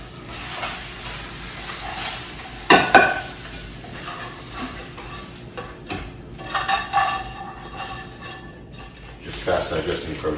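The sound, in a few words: egg whites and whole egg frying in pan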